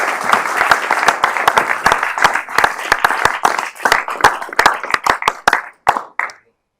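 Conference audience at a German-US-American partnership event in Washington D.C. breaking into loud, close applause, a dense burst of many hands clapping that holds steady and then stops abruptly.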